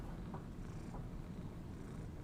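Cat purring close to the microphone, a soft steady low rumble lasting a couple of seconds.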